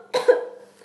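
A single person coughs without covering the mouth, a sharp close burst followed by a brief rough tail, then quiet.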